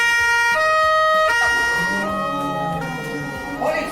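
Wailing police siren sound effect in a comedy skit, loud and close, with rising and falling tones sustained throughout and no voices over it.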